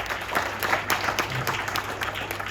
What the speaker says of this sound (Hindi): उसके लिए ताली हो जाए यार जोर से एक बार,